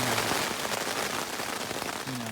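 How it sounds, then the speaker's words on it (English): Heavy thunderstorm rain pours down on the John Muir Trail in a dense, constant hiss, loud and close, with no pauses through the whole stretch. "So we're having a major one now. It is raining like hell."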